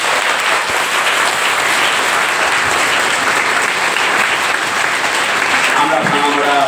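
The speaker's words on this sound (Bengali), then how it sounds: "আরেকবার এই বিহান শিশু কল্যাণ সমিতির উদ্দেশ্যে জোরে করতালি।" An audience at a legal awareness camp at a Ramakrishna ashram gives loud, sustained applause for a child welfare committee, dense clapping filling the whole stretch.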